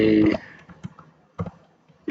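Typing on a computer keyboard while working in an Excel spreadsheet: a few sparse, separate key clicks after a brief louder burst, with quiet gaps between them.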